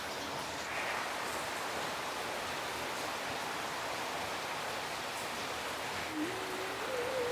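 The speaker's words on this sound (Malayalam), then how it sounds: "അതെ, ഭയങ്കര മഴയാണ്. കൊടുമഴ എന്ന് പറഞ്ഞ കൊടുമഴ." Heavy monsoon downpour falling steadily, a dense, even hiss of rain that holds at the same loudness throughout with no voices, and a faint thin whistling tone near the end.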